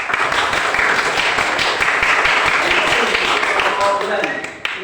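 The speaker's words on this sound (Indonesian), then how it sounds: "Tepuk tangan." A group of people applauding in a classroom, a dense continuous burst of clapping mixed with chatter, close and loud throughout.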